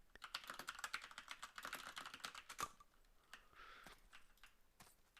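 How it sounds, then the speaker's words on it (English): Rapid, fairly faint clatter of typing on a computer keyboard during an Ace of Spades game session, with dense keystrokes at first that thin out into sparser taps. "Oh, I can't see what I'm typing."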